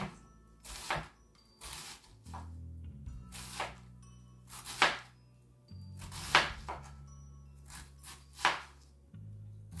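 A knife slices cabbage thinly on a cutting board, with sharp, close, irregular cuts and soft rustles spread through the stretch, quiet overall and with no talk.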